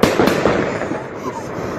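Birthday fireworks go off nearby in a quick run of sharp bangs and crackling bursts that fade into a rumbling tail.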